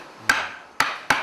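A handmade wooden mallet strikes wood three times while a carpenter works 200-year-old Geumgang pine for a temple restoration. The blows are sharp, close and solid, with short decays between them.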